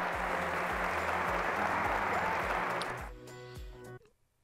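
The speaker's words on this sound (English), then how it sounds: "I just wanted more clapping. So I just looped some clapping clips here" Dense looped applause from a wedding crowd fills the first three seconds over a rhythmic music beat, then fades out as the music continues alone.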